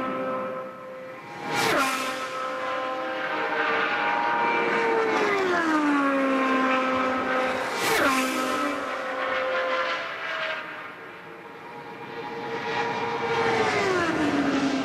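IndyCar race cars scream past during Indianapolis 500 pole-day qualifying at Indianapolis, each loud engine whine dropping in pitch as a car goes by, with several passes over a steady crowd and track roar.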